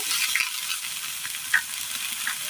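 Sliced onions sautéing in a pan, a soft continuous sizzle with a few light clicks of a spoon against the pan, no voices.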